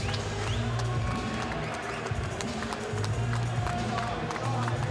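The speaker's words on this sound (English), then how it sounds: "Subdued crowd watching Bradley." Subdued crowd murmur at a boxing match, a low, steady arena hum with scattered claps and thuds and voices mixed in.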